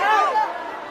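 Protesters crowd together at Jantar Mantar, a dense babble of many overlapping voices, steady and close for about a second with no single clear speaker standing out.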